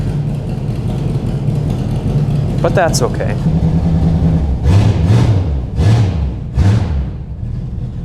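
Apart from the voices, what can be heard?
1962 Mercury car engine running with leaking exhaust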